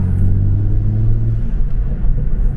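BMW 335i fitted with VRSF downpipes revving nearby, a loud, deep rumbling exhaust drone that holds steady and then roughens slightly as the revs shift.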